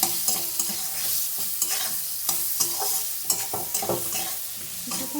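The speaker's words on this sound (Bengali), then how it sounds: "এবং জিরে গুঁড়ো দিয়ে দিলাম। এবারে কিছুক্ষণ নেড়ে চেড়ে" Spices with cumin powder are stirred in a pan for a fish curry, with repeated scraping strokes of the spatula over a steady frying sizzle, close and fairly loud.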